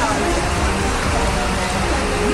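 Heavy monsoon rain falls in Mumbai, a dense, loud, steady hiss with no pauses. A broadcast voice is likely mixed in.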